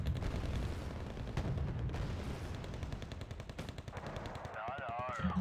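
Continuous booming mortar and artillery fire from a Wargame: Red Dragon tournament match rumbles steadily beneath a game announcer-style voice and scattered interface sounds.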